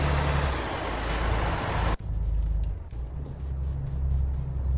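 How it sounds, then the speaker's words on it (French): A loud truck engine in Euro Truck Simulator 2 rumbles, gives a sharp hiss like an air brake, then keeps idling steadily. "vous entendez bien le camion"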